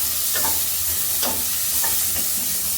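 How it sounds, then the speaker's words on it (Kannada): Onions and a bay leaf sizzling in a pan for pulao, a steady loud fry punctuated by three or four quick spatula strokes. "ಪಲಾವ್ ಎಲೆ, ಇದಾದ್ಮೇಲೆ ಈರುಳ್ಳಿ, ನೆಕ್ಸ್ಟ್ ಒಂದು ಚೆನ್ನಾಗಿ ಫ್ರೈ ಮಾಡೋಣ"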